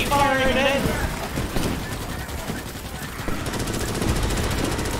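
Rapid automatic gunfire from a Starship Troopers: Extermination bug battle, dense sustained bursts rattling close and loud, with excited voices shouting over the shooting.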